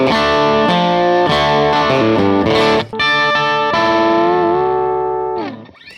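Electric guitar played through a TONEX amp capture with a G12M speaker: a distorted riff of chugging chords and single notes, ending on a sustained bending note that fades out, loud and alone.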